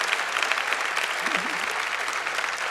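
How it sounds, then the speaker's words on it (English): A crowd at an LBJ Liberty & Justice award evening breaks into steady, dense applause that continues throughout, with a brief murmur of voices showing through the clapping. "and that is an applause line"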